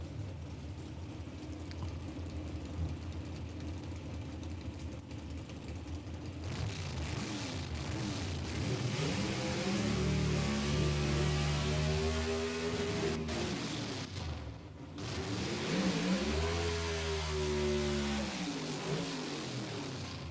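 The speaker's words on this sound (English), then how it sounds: "how much torque does it take to pick the front end of this machine up as high as that car launches?" A drag racing car at a dragstrip event launches and accelerates hard, a loud roaring engine sweep rising in pitch, followed by a second engine surge further off.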